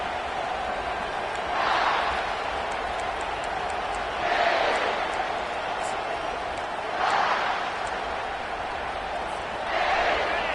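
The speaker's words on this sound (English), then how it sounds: "they're trying to rattle their eardrums. Listen to this crowd" Roaring college football stadium crowd, a steady broad roar that swells in four loud surges, with a commentator talking over it.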